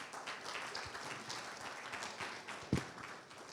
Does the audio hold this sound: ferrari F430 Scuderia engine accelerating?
no